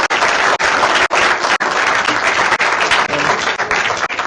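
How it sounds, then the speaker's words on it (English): An audience at engineering senior capstone design presentations gives a loud, sustained round of applause for the team leaders, dense clapping with a few brief dips and faint crowd voices. "So I think we owe them a round of applause"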